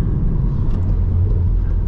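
A VW Golf R MK7.5 engine produces a loud, deep, steady rumbling drone, heavy in the low end and without distinct pops.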